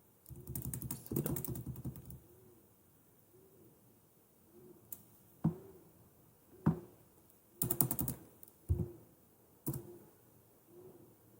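Computer keyboard keys tapped while writing code for a notepad app, a few separate short clicks and clusters of keystrokes spread out, close and fairly faint, with no talking.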